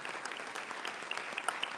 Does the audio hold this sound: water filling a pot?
no